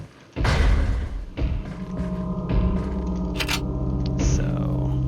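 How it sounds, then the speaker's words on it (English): In Resident Evil 4, heavy thuds and knocks land over a low, ominous ambient hum, a few dull impacts against a continuous droning background. "There is an ominous knocking."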